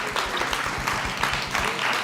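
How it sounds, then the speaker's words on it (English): Church congregation applauding during a Sunday celebration service, a short round of clapping with a low murmur underneath, moderately loud and steady. "So let's give a big round of applause."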